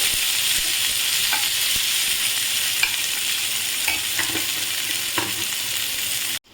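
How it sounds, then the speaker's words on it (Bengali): Onions frying in a pan, a steady loud sizzle throughout with a few scattered clinks and scrapes of stirring, no voices. "পেঁয়াজটা একটু ভালো করে ভেজে নেব।"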